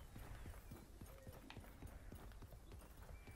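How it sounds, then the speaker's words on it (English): Hooves clip-clop in a steady, brisk rhythm over a constant low rumble, the beats close and evenly spaced; a horse in the video game Realm Royale. "I hear a horse."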